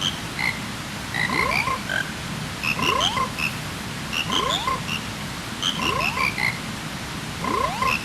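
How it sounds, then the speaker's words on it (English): Chorus of frogs croaking in Zelda: Majora's Mask, a steady layered stream of rhythmic croaks and rising chirps repeating in waves over a soft background hum, with no talk. "Alright, now where are those froggies?"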